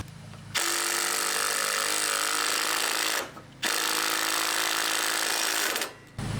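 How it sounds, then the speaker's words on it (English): A power drill bores into a concrete slab to pre-drill holes for anchor bolts, two loud sustained bursts separated by a brief pause, with no talking. "we can pre-drill the concrete, get some anchor bolts in there"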